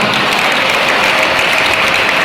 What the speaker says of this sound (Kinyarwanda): Imana nikomerwa amashyi.